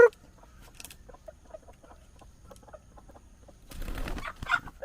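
Hen clucking outdoors in a rural yard, soft scattered clucks at a modest distance, ending in a louder burst of clucking with a brief rustle or wing flap.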